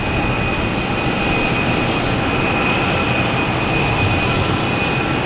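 A JetBlue airliner arriving at Boston Logan Airport, heard as a steady, loud broadband jet roar with a high whine that holds evenly throughout, with no voices.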